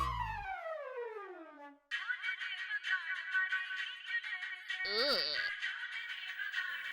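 A mobile phone plays a bright electronic ringtone melody, preceded by a descending tonal sweep, with a short warbling burst partway through; no talking.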